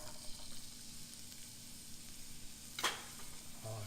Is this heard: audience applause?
no